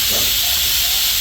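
Onions sizzle in hot oil, a loud, steady, close hiss that fills the short moment while they are stirred.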